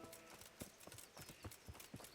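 Horse hooves clip-clopping in the medieval role-playing game Kingdom Come: Deliverance, a quick, steady run of close, crisp hoof strikes.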